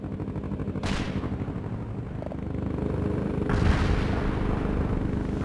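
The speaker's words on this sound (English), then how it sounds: "I have incoming mortars!" Incoming mortar shells bursting in World in Conflict over a steady rumbling battlefield bed, with two heavy explosions about three seconds apart under continuous distant gunfire.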